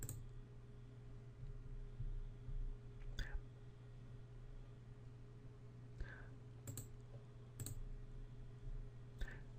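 Sparse, quiet mouse clicks while working in Excel 2013, arriving as a few isolated single and double taps over a low steady hum, with no voices.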